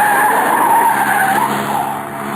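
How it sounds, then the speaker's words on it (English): Car sliding through a corner on the handbrake, a sustained tire squeal with wavering pitch that fades slightly toward the end, loud and without speech. "Hang on, corner on the handbrake makes things kind of sudden"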